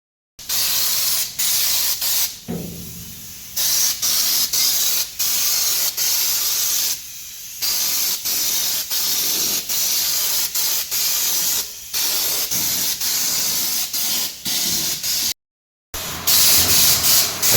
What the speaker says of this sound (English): we can spray the stone chip paint over the top.